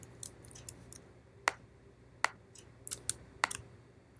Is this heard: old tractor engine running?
no